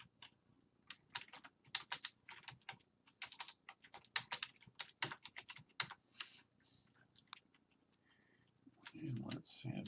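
Clicking keystrokes on a computer keyboard as a date is typed into a field, arriving in quick irregular bursts up close, then tapering off before a short rustle at the end.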